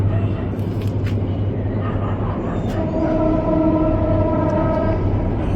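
A passing train sounds a sustained horn in the distance, holding a steady tone for a couple of seconds over a constant rumbling background.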